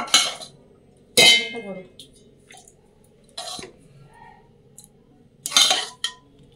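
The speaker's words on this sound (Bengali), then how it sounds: "টমেটো এটা ঠান্ডা হয়ে গেছে, এবারটা মিক্সার জারে নিয়ে নেবো।" Cooled boiled tomatoes being tipped into a mixer jar in a home kitchen, a few sharp clinks and clatters of utensil against jar separated by quiet pauses.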